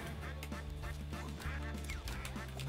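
Rapid cartoonish duck quacks repeat over busy game music and effects in the fighting game Nickelodeon All-Star Brawl, steady and fairly loud.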